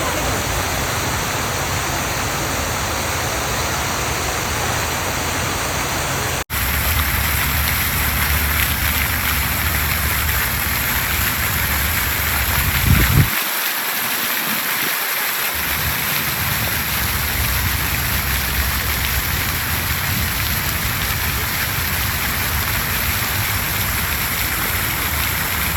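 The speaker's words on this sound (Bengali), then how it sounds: "পানির শব্দ, ঝর্ণার শব্দ এবং আশেপাশের গাছপালা" A fountain and flowing water in Al Shaheed Park, Kuwait, make a loud, steady rushing splash that fills the whole span, with a brief low thump partway through and no clear talk.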